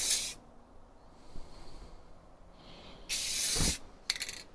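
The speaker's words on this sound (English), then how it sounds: "first thing I'm going to do is spray paint these and let them dry" Short hissing bursts of an aerosol spray can painting LED fender marker lights, one at the start and a longer one later, followed by a quick sputtering spray near the end, in cold weather.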